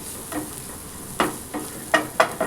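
Turmeric frying in oil for a vada pav potato filling, a low sizzle broken by several sharp spoon scrapes and clinks against the pan, close with no speech.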